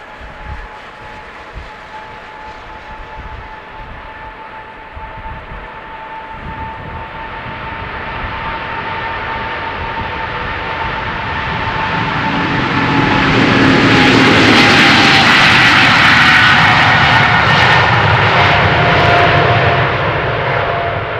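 A United Boeing 777-200ER with GE90 jet engines takes off at Amsterdam Schiphol Airport, its whining, roaring engines building from a distant drone to a loud, rushing crescendo as it passes, with no talking.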